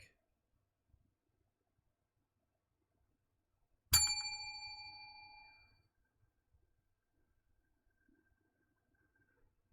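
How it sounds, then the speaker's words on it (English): A single hand bell is struck once and rings out with a bright metallic tone that fades over about two seconds, with quiet before and after. "now we're going to grab our bell"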